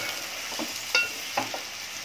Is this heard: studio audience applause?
no